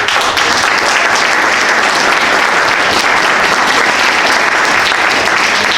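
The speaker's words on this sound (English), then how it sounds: "a round of applause for all of our sponsors" Steady, loud applause fills a hall at a public forum on climate change and human health, a dense crowd clapping without pause for the full stretch.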